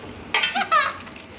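A metal curry pot is handled while being unboxed at home, making a few brief close clanks and knocks in under a second.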